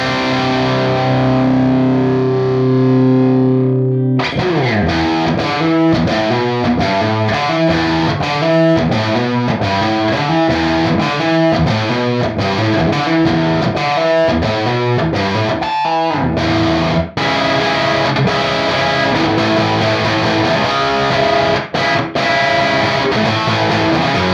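Distorted electric guitar through a Universal Audio Lion '68 amp plugin, playing steadily with a strong, washy room reverb that lingers behind each chord, loud and continuous throughout.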